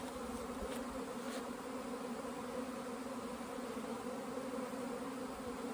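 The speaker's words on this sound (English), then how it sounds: "We have bees flying everywhere." Honeybees on their first flight from the hive make a dense, steady buzzing hum all around, continuous and even throughout.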